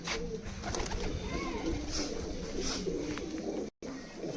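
A flock of Giribaz pigeons in a loft keeps up a steady, layered cooing, low rolling calls overlapping continuously at moderate loudness, broken only by a brief dropout near the end.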